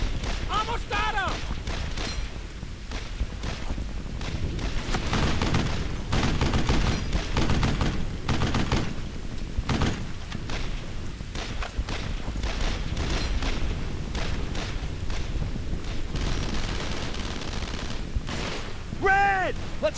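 Gunfire in a Medal of Honor World War II game battle: rapid, continuous rifle and machine-gun shots with occasional booms rattle throughout at moderate level, while soldiers shout over the fighting.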